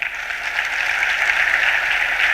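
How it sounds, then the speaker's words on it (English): Audience applause at the Ghana Bar Association annual conference, a steady crowd of hands clapping continuously and fairly loud, with no talking over it. "Let's clap for lawyers in Ghana."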